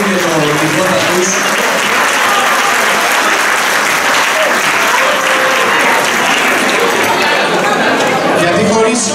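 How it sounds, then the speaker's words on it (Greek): Loud, sustained clapping from a crowd for traditional Greek folk dancers at a dance venue, dense and continuous for about nine seconds, with a few faint clinks of glasses or cutlery. "Ένα πολύ μεγάλο χειροκρότημα στα παιδιά"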